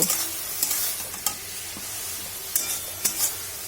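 Radish being stirred with crumbs of fried lentil bori in a pan for a vegetarian mulo bori chechki, with a steady close sizzle and several sharp spatula scrapes spread across the stretch, no voices.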